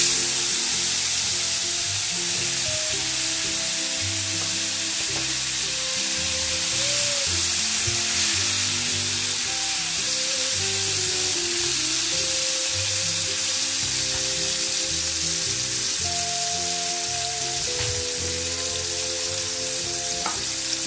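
Salmon and tomato fry in a pan over lowered heat, giving a steady, close sizzle with crackles and occasional stirring sounds throughout, no voices.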